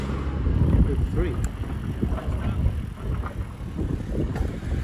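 A push bike rides along the road from York to Boroughbridge, with steady rolling rumble and wind buffeting the microphone throughout and a voice talking over it.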